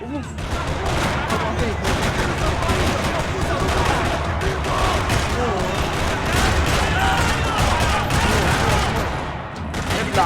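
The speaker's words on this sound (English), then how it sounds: "Another parking lot rattling with gunfire." Dense, rapid gunfire rattles continuously with overlapping bursts and shots in a parking lot in Max Payne 3, loud and chaotic, like an intense firefight.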